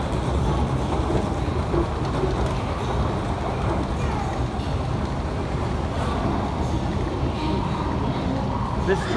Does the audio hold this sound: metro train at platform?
yes